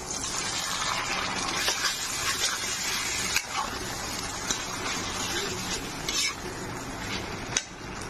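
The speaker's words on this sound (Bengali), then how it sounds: "চাউমিনটা দিয়ে এখন নাড়বো সব ভালো করে।" Chow mein noodles are stirred with sauce in a pan, giving a steady wet sizzling hiss with clinks of the utensil against the metal and a few sharper knocks.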